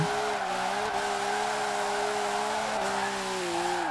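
Chris Forsberg's Formula Drift car in Forza Horizon 4, a gripped-up machine of about 1,000 horsepower on 30 pounds of boost, screams at high revs with a continuous tire skid, its engine pitch dipping and rising with a few shifts.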